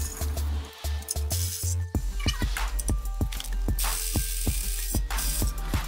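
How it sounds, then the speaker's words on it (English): A ratchet loosening the clutch bolts on a car with the transmission out, rapid, close clicking pawl bursts repeating over steady low background noise. "the idea is to loosen all those bolts that hold the clutch in place."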